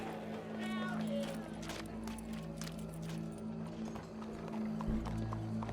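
Horse hooves clip-clop in a steady walking rhythm in the video game Red Dead Redemption 2, fairly faint, with a low game ambience and a crowd murmuring in the background.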